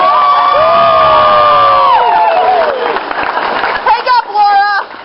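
A loud convention panel crowd at Kaotickon 2012 breaks into whoops, shouts and applause, with excited voices and cheers rising over the clapping.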